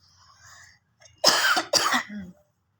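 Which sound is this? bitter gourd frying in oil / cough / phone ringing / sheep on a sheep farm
cough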